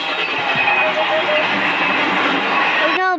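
A train in a MAME car versus train video game rumbles loudly and continuously as it passes, a dense mechanical roar that cuts off abruptly near the end.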